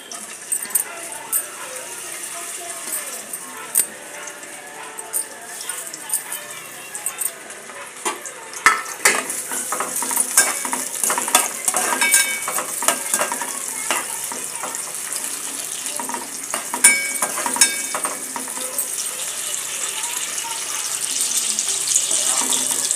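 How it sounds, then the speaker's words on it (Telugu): Dried shrimp fry in about two spoons of hot oil with a continuous crackling sizzle, broken by sharp scraping clinks as they are stirred, growing busier and louder toward the end. "తర్వాత ఎండ్రాయిలు కడిగి పెట్టుకున్నాం కదా శుభ్రంగా, ఇవి మనం వేపుకుందాం"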